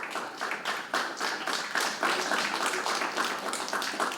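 An audience at a school spring band concert claps for the band members, a dense patter of many hands rising and falling in waves for a few seconds, heard from within the hall.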